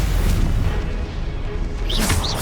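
Confringo spell explosion in the video game Hogwarts Legacy, a loud, sustained booming rumble with crackling bursts near the end.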